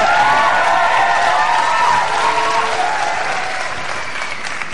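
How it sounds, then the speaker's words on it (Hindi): Loud crowd applause with cheering and whoops at a hip hop competition, sustained clapping from a large audience under shouted voices that slowly eases off. "ऑन एंड फारिया के लिए बहुत सारी तालियां प्लीज।"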